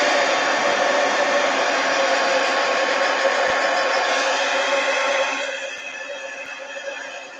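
A hair dryer blows steadily and loudly at close range over an art journal page, a continuous broad whoosh that drops to a lower, softer setting for the last couple of seconds.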